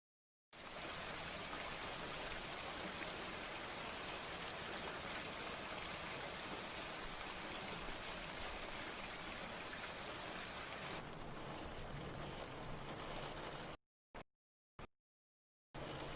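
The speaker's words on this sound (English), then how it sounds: "It's raining outside." Rain falls in the video game Destiny, a dense, steady hiss that runs loud for about eleven seconds, thins slightly, then cuts off abruptly with a couple of brief bursts before returning.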